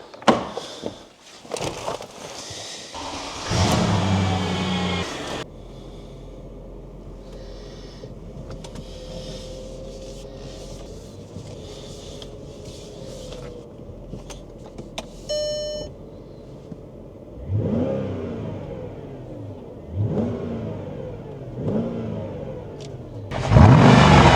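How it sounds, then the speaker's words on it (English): Mechanical clunks and whirs lead into a Mercedes ML500 V8 engine starting, with a long low idle, a brief beep, then several rising revs near the end. "So let's start this up and show you the noise of this beautiful ML500"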